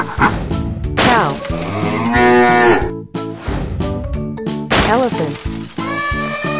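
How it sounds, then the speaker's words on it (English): A cartoon cow moos in two long, loud, drawn-out calls over busy background music with crashing and shattering effects. "Cow."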